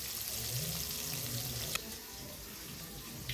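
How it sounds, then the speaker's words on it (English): Fish coated in egg and flour sizzles in a frying pan with a steady, hissing crackle. The sound is close and even, with a brief clatter partway through. "then I'm going to fry it in the pan"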